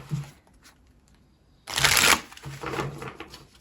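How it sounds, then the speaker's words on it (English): Tarot cards are laid out on a table for a pick-a-card reading: a faint papery tap, then a louder flurry of cards sliding and slapping down, followed by softer handling. "let's put a tarot card under each of these oracle cards"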